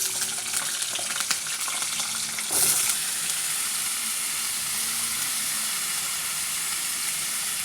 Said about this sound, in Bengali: আলুটা একটু ভেজে নিচ্ছি